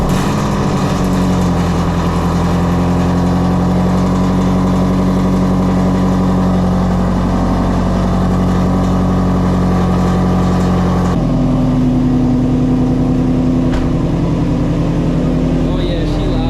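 A Shelby GT350 Mustang engine runs loud and steady, with a deep droning exhaust that shifts pitch partway through as the revs change.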